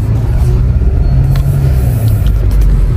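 A car drives along a road, a loud steady low rumble of engine and tyres heard from inside, continuous and close with no talk.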